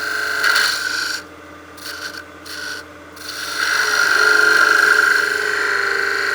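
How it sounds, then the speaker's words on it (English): Parting tool cutting V grooves into the underside of a small wooden mushroom-head Christmas ornament spinning on a lathe, a steady raspy scraping in several short bursts with brief pauses, then a longer, louder continuous cut; no talking. "we can start doing some V cuts here to clean up the bottom underside of the mushroom head"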